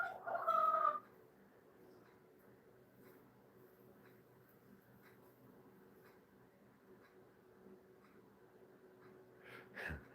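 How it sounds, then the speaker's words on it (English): A rooster gives a short, strained crow at the start, fairly close, followed by a long stretch of faint background noise and a brief rustle near the end. "The rooster is screaming to get to KFC."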